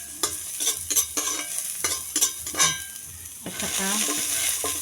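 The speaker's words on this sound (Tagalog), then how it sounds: "Igisa ko muna ang bawang luya" Garlic and ginger sauté in a little oil in a smoky pan, with rhythmic stirring scrapes over a bright continuous sizzle that swells louder near the end. A brief voice is heard.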